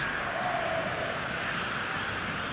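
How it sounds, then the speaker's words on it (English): A full stadium crowd in the eFootball video game on PS5, a steady broad roar of many voices that holds at one even level throughout. "The stadium is full of noise and energy."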